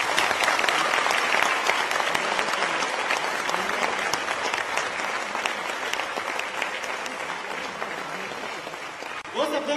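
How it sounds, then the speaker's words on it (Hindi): Loud, dense applause from a large audience at a Bihar centenary celebration in Ahmedabad runs steadily for nearly ten seconds, then fades at the end. "जोरदार तालियों से"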